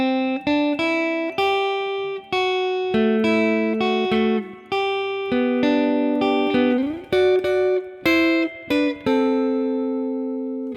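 An electric guitar plays a lead lick, bright, clean picked notes in a bouncy melodic line with a few slides, close and alone without talking.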